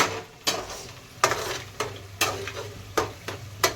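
Chutney spice paste being fried in a pan, a steady close sizzle broken by about seven sharp scraping stirs spaced roughly every half second.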